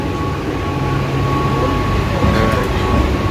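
Mumbai suburban local train running between Andheri and Naigaon: a loud, steady rumble and clatter of rail carriages heard from inside, continuous throughout.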